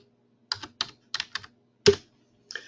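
Sharp, distinct keystrokes on a computer keyboard come in a short irregular burst of about eight clicks, close and crisp against silence.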